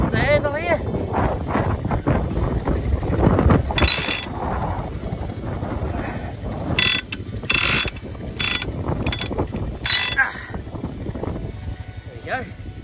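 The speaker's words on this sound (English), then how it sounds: "we'll just give her a bit of a tighten up with the handle here." A ratchet handle cranked to tighten a farm irrigator outdoors, rapid repeated clicking of the pawl in bursts, close and loud, with wind noise on the microphone and someone speaking between strokes.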